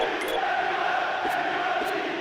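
Stadium crowd in the PES 2013 football game giving a sustained, dense roar of jeers and murmurs at a foul, steady and fairly loud, with a few brief sharper bursts.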